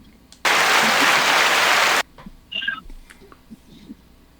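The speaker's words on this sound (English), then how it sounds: "I just had to applaud." A short, loud burst of applause from a person during a conversation with a soccer coach lasts about a second and a half, followed by quiet, faint voices.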